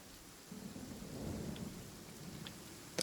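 Thunder rumbles low and steady in Genshin Impact amid a rain-soaked storm, building through the middle with a sharper crack near the end, no voices over it.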